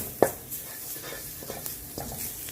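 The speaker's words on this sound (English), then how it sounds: "You can go ahead and whisk this in, but I don't have a plastic whisk and I am using a non-stick pot." A roux is whisked in a non-stick pot with a metal whisk, making a soft sizzle under a few sharp clinks and quick scraping strokes; no voices.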